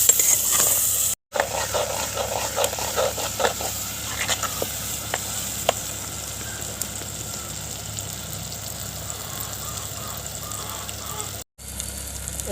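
Crushed garlic fries in oil for a village-style fish curry cooked over a lit stove, giving a steady close sizzle with scattered small crackles and pops that runs the whole time.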